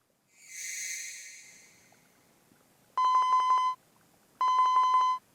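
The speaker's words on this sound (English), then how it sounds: "Suddenly his phone rang" A telephone rings in the visual novel 428: Shibuya Scramble, two bright electronic ring bursts in a row after an earlier soft swelling tone, clear and alone.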